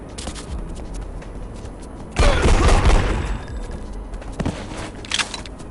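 Gunfire aimed at an enemy in the shooter Project IGI comes as one loud burst of shots, followed by a few scattered sharper cracks and faint clatter against a quiet background hum.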